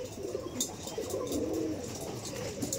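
Pigeons of many kinds coo softly and continuously in low murmuring tones, with a few faint higher chirps and some background noise throughout.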